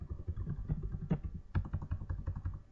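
Rapid, uneven clatter of keys on a computer keyboard, close and fairly quiet, with a few heavier key strikes amid the steady typing.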